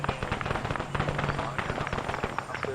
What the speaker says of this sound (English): follow the gunfire